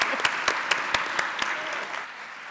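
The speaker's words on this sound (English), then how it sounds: "let's give her a big round of applause." Applause from an audience at a conference talk on the future of food, a steady patter of many hands with a few sharp, distinct claps standing out, tapering off over about two seconds.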